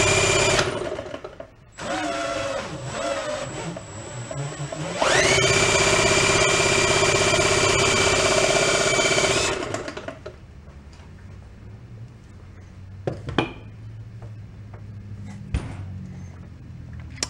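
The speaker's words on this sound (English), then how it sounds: "Let's just go spin it with a drill and see if she uses any oil." An old 1937 boat motor, long stored in a shed, is turned over with a power drill after its spark plug is removed. A loud steady whirring drive rises and cuts off, followed by quieter clicks and light mechanical taps.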